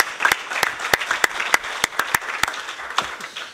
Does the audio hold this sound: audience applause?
yes